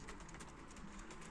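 Male pigeons sit in a loft and coo, their soft, low rolling calls blending into a faint, continuous murmur with no voices.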